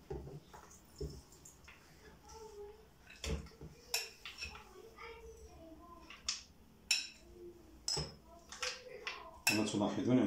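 Ingredients tipped into a blender jar for a natural thyroid remedy, sounding as a string of sharp clinks and knocks of utensils against the container, scattered irregularly and ending in a denser rattling pour.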